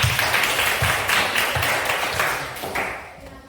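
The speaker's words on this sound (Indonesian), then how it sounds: "Tepuk tangan untuk mereka semua." Classroom audience clapping together in a steady burst of applause, dense and close, fading slightly toward the end with no talk over it.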